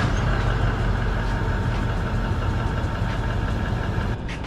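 Stock DPF-back exhaust on a 2021 Toyota Land Cruiser 200 Series idling, a steady, smooth low drone held close and constant with no voices.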